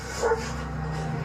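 A police dog barks in a short, sharp burst close by during a chase after a suspect near a bridge and undergrowth, with steady outdoor background noise around it.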